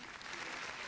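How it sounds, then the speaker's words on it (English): Brief burst of audience applause at the close of an academic Islamic economics and finance conference session, a dense steady patter of many hands at moderate volume with no voices. "Maybe we can give applause for all the speakers."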